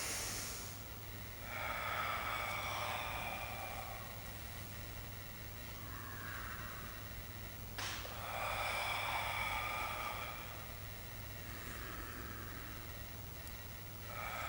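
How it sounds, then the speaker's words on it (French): Slow breathing in and out during a Pilates exercise, long airy breaths alternating at an even pace over a low steady hum, close and fairly quiet. "Expire. Inspire."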